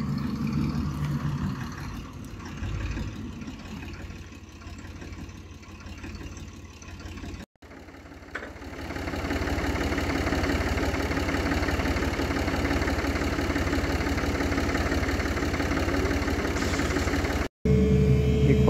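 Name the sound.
tractor engine idling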